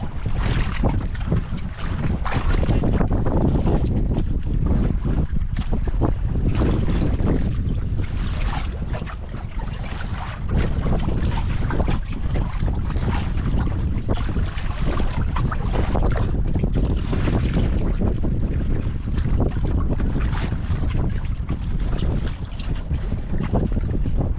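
Strong wind at sea buffets a fishing boat, a loud, continuous roar of gusts and microphone rumble with waves mixed in, lasting unbroken throughout.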